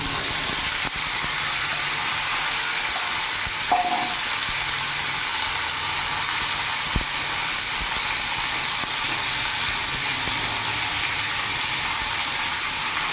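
A steady, hissing sizzle of figs frying in hot oil after tempering spices runs throughout, even and close, with a couple of faint clicks.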